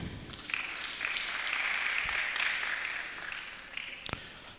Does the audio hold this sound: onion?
no